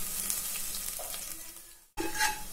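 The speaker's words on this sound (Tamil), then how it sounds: "இதெல்லாம் நல்லா வதக்கிடலாம்." Ginger and garlic sizzle and crackle in a hot pan, with brief stirring scrapes and a sudden momentary cutoff before the frying resumes.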